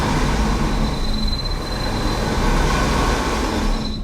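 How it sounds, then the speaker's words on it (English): A Subaru Crosstrek stuck off-road spins its wheels, the engine straining in a loud, steady, grinding roar that fades at the end. "So a lot of wheel spin, traction control light blinking, but not unstuck."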